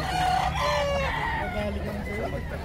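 Chickens and roosters at the Bocaue pet market on a rainy day, several close crows and clucks overlapping in a busy chorus, with people talking in the background.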